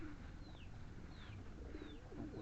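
A racing pigeon coos softly in a loft, three faint repeated calls rising over a steady hiss of background noise.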